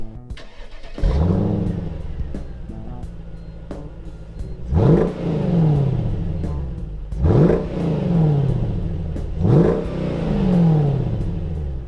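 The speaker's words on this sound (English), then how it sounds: "I'll rev that amazing little V8 engine for you to hear" A Mercedes SLK55 AMG V8 engine revs three times in strong, rising bursts, each climbing sharply then falling back to a steady idle, close and loud.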